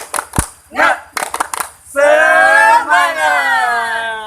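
A quick burst of rhythmic group clapping by young schoolchildren in class, then many young voices shout together loudly and hold the cheer.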